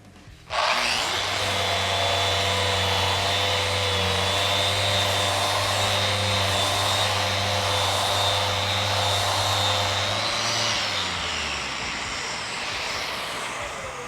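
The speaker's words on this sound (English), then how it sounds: "this Rotex is just amazing. It has a massive amount of power, plus it sucks up all the dust" A Festool Rotex sander works a walnut live-edge tabletop, stripping finish with dust extraction: a loud, close, steady motor whine and rough abrasive drone that starts abruptly, holds for about ten seconds, then drops in pitch and winds down.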